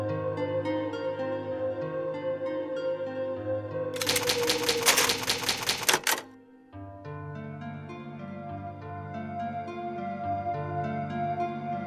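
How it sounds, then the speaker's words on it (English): An old typewriter used to save progress in Biohazard HD, a burst of rapid mechanical key clacks lasting about two seconds, set amid sustained moody background music that drops away briefly afterward and then resumes. "It's an old typewriter"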